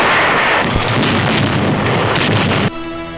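Heavy, rumbling bomb blasts from an RAF air raid during the final assault on Mandalay, a loud, dense roar of explosions that cuts off abruptly near the end.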